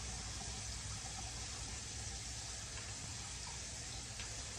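Cool water runs steadily from a tap for rinsing a face, a continuous broadband gush that stays loud and even throughout, with no voices.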